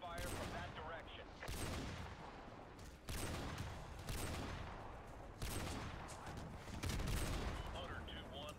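Gunfire and explosions from the video game Modern Warfare 2 Remastered in a snowy battle, with repeated rapid bursts of shots and booming blasts in several waves, dense and loud, with radio voices faintly mixed in.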